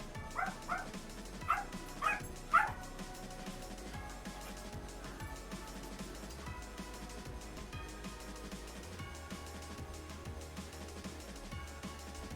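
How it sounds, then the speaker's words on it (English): A pet dog indoors gives about five sharp barks in quick succession near the start, then falls quiet apart from soft whimpers and faint household rustling. "He's gonna keep barking."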